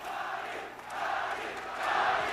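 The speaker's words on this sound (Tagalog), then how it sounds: "And listen to that crowd, Kinito." Boxing arena crowd roaring after a Manny Pacquiao knockout, a dense, sustained cheer that swells and rises toward the end, with no clear voices standing out.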